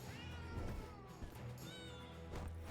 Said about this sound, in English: God, I love the big black cat.